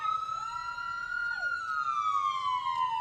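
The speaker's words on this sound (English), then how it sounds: "Now we've got a loud siren coming from somewhere," A loud wailing emergency-vehicle siren at a Fourth of July parade in Hamilton, rising and sliding down in pitch, steady and fairly close, with no talk over it.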